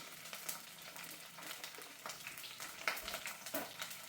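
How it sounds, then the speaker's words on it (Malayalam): Mustard seeds, curry leaves and dried chillies spluttering in about three tablespoons of hot coconut oil in a pan, giving a soft, continuous crackle with small pops, close but faint and heard alone. "വറ്റൽമുളകും ഇട്ടൊന്ന് പൊട്ടിക്കാം."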